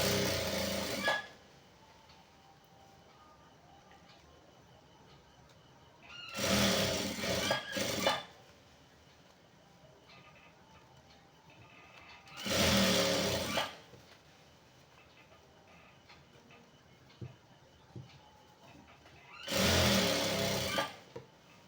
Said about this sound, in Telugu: నేను ఈ విధంగా పైన వేస్తున్నాను కుట్టు